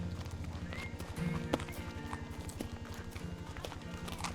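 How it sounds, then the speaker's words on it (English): Horses walk in steady clip-clop rhythm along a road covered in leaf matter, the hoofbeats close and continuous throughout with a crew riding together. "we're gonna take a little ride with the horses down here with the whole crew"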